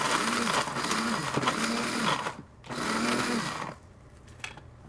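A kitchen blender pulses in short bursts to grind ingredients with brown sugar into powder, three or four whirring pulses separated by brief pauses, close and moderately loud.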